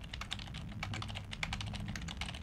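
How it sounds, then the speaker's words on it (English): Rapid, continuous clicking of keys on a computer keyboard, close and moderately quiet, forms a steady stream of taps with small irregular accents and no voices. "Can you hear my keyboard?"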